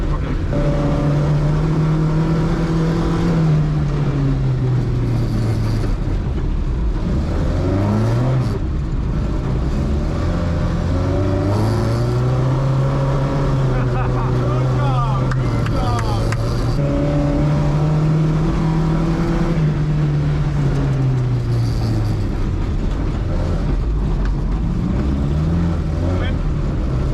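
A car being driven, its loud, close engine drone steadily rising and falling in pitch as it accelerates and eases off, with no breaks throughout.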